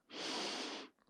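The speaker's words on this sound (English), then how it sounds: "Take a deep breath in." A single deep inhaled breath during a guided sound-healing meditation, close and steady, swelling quickly and holding for under a second before stopping.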